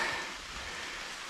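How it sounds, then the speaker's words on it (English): Steady rain falls on a hiking trail along the Appalachian Trail, a soft even hiss of drops close around, fairly quiet, with no voices. "it has been raining non-stop all day long"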